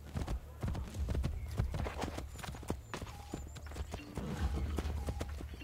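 Horse hooves clip-clop steadily on hard ground in Assassin's Creed Brotherhood, a fairly quiet, continuous trot with faint background game ambience.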